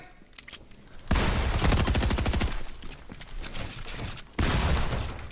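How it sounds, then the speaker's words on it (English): Rapid gunfire bursts in a Fortnite duo wager match, a dense loud volley starting about a second in, easing briefly, then another heavy burst near the end, with no talking. "No way you shot Sommerset"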